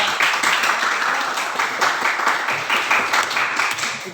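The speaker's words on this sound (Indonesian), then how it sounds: "Kita beri aplaus kepada" An audience at a church learning session claps together in sustained, even applause, loud and near, with the dense patter holding steady for the whole stretch.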